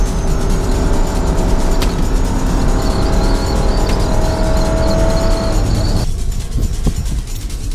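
A KTM 300XC-W two-stroke dirt bike accelerates hard with a loud, continuous engine roar, then drops away sharply near the end, leaving a quieter rumble.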